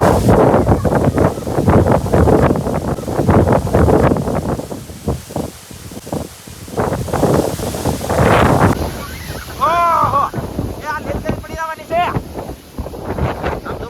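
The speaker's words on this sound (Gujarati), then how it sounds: "આ પવન આવે" Strong gusting wind during a heavy rainstorm in Dayal village, roaring as a loud broadband rush with excited voices shouting over it throughout.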